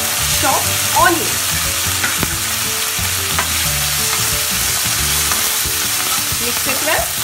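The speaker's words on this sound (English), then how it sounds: "Now add the chopped onion." Chopped onion frying in a pan with ginger garlic paste, a steady close sizzle with occasional stirring scrapes, no voices.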